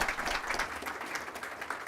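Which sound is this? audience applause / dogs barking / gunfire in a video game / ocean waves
audience applause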